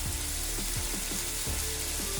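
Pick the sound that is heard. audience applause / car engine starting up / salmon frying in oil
salmon frying in oil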